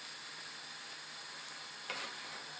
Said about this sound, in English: Just mixing it all around, mixing it all around